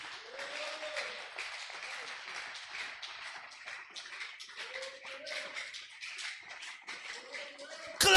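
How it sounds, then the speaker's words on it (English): Continuous clapping from a church congregation, a dense steady patter with faint voices and tones rising now and then beneath it. "Clap unto the Lord again."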